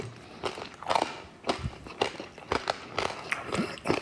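Someone bites into crunchy Franconian-style pork shoulder (Schäufele) and chews it, making crisp crackling crunches in irregular bursts close to the microphone, with no talk over them.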